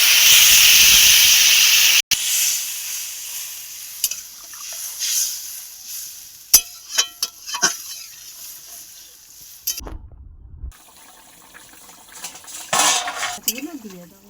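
Water poured into a pan of frying fish curry with potato, papaya and green banana: a loud hiss of sizzle and steam at first, then clinks and scrapes of a utensil against the pot, with a voice briefly speaking.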